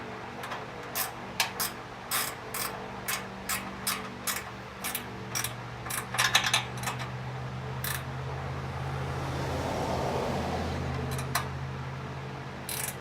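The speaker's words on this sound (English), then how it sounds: "use this gear wrench." Gear wrench ratcheting on the slip-on exhaust of a Ducati Diavel, a series of quick clicking ratchet strokes in a steady rhythm, close and crisp, followed by a softer rustling mechanical shuffle.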